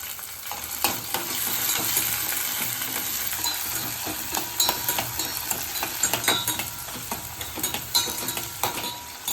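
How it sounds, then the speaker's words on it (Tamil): Onions with salt sauté in a hot pan for fish curry, sizzling steadily while a spoon stirs and scrapes in irregular clicks and taps, close and fairly quiet, with no talking. "நான் வெங்காயத்துக்கு கொஞ்சம் உப்பு போட்டு வதக்குறேன்."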